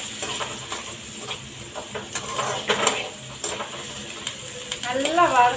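Onions fry in a pan for crab curry, a continuous close sizzle broken by repeated scraping and clinking as a spoon stirs them, with a brief voice near the end.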